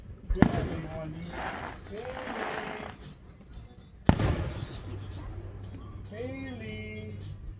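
A pair of distant fireworks blasts, one near the start and another midway, each a sudden sharp bang fading into a rumble, with people chatting and a voice heard throughout.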